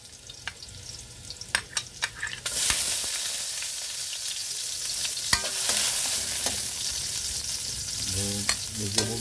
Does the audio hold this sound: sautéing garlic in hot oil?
yes